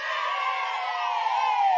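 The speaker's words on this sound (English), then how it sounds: "The children below are yelling and cheering in support." Children yelling and cheering together as a steady crowd roar, loud and continuous, with excited whoops rising above the mass of voices.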